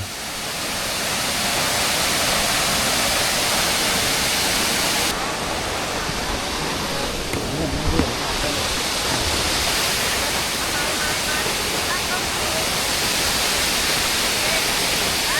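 A loud, steady roar of Tad Gneuang Waterfall near Paksong, southern Laos, fills the whole stretch, a constant broadband rush with no pauses.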